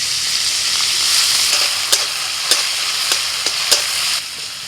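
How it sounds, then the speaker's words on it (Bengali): Ginger, garlic and green chilli fry in a little oil in a wok, a steady close sizzle broken by several sharp scraping clicks of a spatula stirring, no voices. "কড়াইতে অল্প তেল দিয়ে তেলের মধ্যে দিয়ে দিলাম।"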